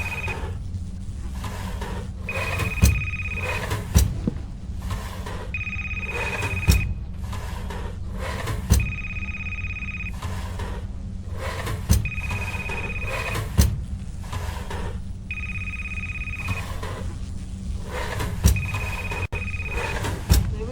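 A telephone rings in a haunted library video game, sounding as repeated bursts of electronic ringing in a regular on-off rhythm, with occasional thuds and clunks over a quiet, hollow ambience.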